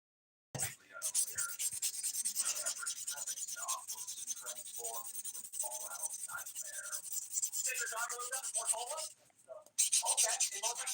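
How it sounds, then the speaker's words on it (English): Fingernails being buffed with a nail buffer during a rose gold dip powder manicure, a close, rapid scratchy rubbing in bursts with brief pauses, with no talking. "I hate the feeling of buffing right now"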